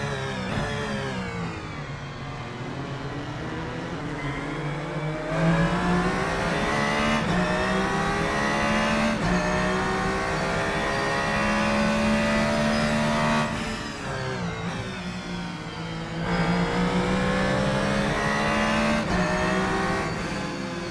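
Race car engine from a racing video game, driven at Fuji, revs hard and continuously, rising and falling through gear changes with brief dips, loud and close with a dense buzzing tone.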